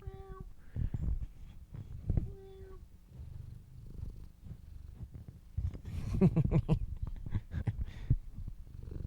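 A cat purring and giving short meows close by in a quiet room, with a few brief vocal bursts spaced across the clip and a soft rumbling purr underneath.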